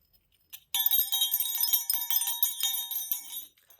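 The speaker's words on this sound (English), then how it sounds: "They are bells." A pack of small metal bells jingles and tinkles continuously for about three seconds, bright and close, after a couple of brief taps, with no talking.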